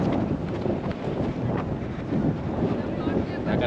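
Strong wind buffets the microphone on an open cricket field during a practice match, a steady rough roar with a few gusty surges and faint voices underneath.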